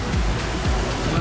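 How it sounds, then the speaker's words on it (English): A waterfall at an indoor waterpark lazy river roars loud and close, a constant heavy rush of pouring water with no break. "Here comes the waterfall."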